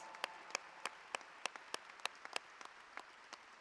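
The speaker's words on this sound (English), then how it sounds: "Let's give them a round of applause." Faint, sparse clapping at a 2025 high school graduation for Davis Aerospace and Maritime High School, a few distinct claps in steady rhythm from a distance rather than a full roar.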